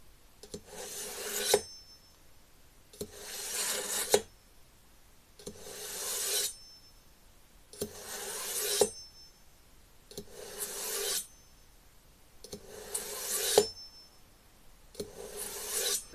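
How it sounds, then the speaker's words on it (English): A knife is drawn heel to tip through a Varsun Edge hand sharpener, seven evenly spaced scraping rasps at a slow steady rhythm, close and clear with quiet gaps between strokes. "drawing your knife from the heel to the tip in one smooth motion"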